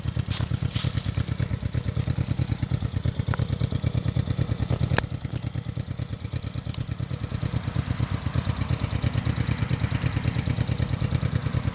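A 1975 Honda CB360T motorcycle runs with a steady, rapid engine putter and clatter, held at a fairly even pace nearby with small surges in throttle.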